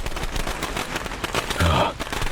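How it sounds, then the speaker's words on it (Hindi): Cartoon sound effect of firecrackers bursting from a burning doll: a dense, loud run of rapid crackling pops, continuous throughout with a brighter flare near the end. "उसमें से पटाखे की आवाज आने लगी।"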